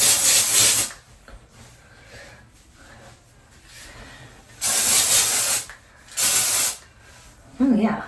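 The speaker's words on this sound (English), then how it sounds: "Like a dry texture spray." Dry texture spray hisses from an aerosol can onto hair in three separate bursts, one long opening spray and two shorter ones later, loud and close with quiet gaps between.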